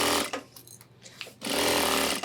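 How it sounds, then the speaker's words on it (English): Sewing machine running a tack stitch on a homemade 30L ultralight hiking backpack: a short whirring burst, a brief pause with light handling noise, then a longer steady run, close by. "then we're going to do a tack stitch into place"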